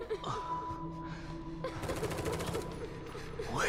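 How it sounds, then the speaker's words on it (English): Rapid bursts of gunfire crackle in the second half of a horror video game (The Evil Within 2), layered with game music and ambient tones; a brief gasp-like voice sounds early. "It is gunfire."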